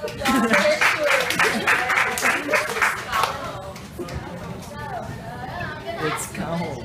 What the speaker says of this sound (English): Let's give her a round of applause for her shoes.